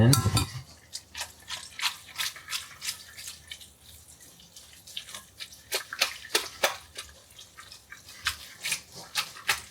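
Water splashing and dripping as a little more is added to pasta dough for carbonara, a run of quick wet pattering hits with no talk.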